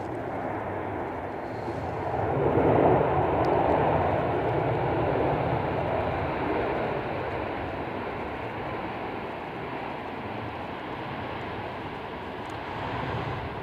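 Jet2 airliner landing in stormy, gusty wind at Manchester Airport, a broad steady engine roar swelling near the start then holding at a loud, sustained level with wind noise throughout.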